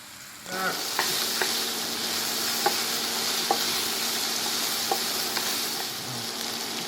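Mushrooms and onions fry in a non-stick pan with a steady close sizzle, broken by a few light clicks and scrapes of stirring, and no talking.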